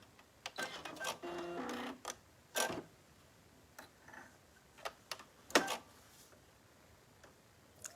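A sewing machine stitching a robe runs in short, uneven bursts of rapid ticking clatter between quiet pauses, close and fairly faint.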